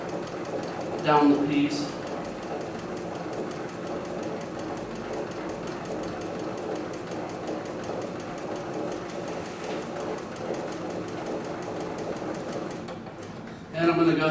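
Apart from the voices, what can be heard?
sewing machine stitching leather at low RPM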